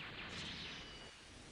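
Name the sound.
ultimate attack explosion in the video game M.U.G.E.N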